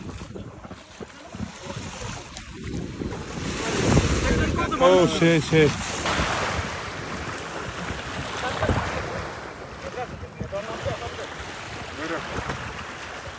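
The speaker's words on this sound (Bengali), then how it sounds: "সো প্রচন্ড বাতাস, আমার কথা শোনা যাচ্ছে কিনা আমি জানি না" Strong wind roars and buffets the microphone over crashing surf at Sea Line Beach, Mesaieed, Qatar, while a voice speaks briefly in the gusts.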